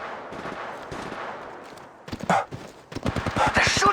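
Rapid bursts of gunfire from the mobile shooter Apex Legends Mobile, several sharp volleys in the second half, with game sounds and background noise before them.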